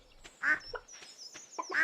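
Ducks quack in short nasal bursts on a Stardew Valley farm, three clear calls spaced across the moment, loud and close against a soft game backdrop with no talking.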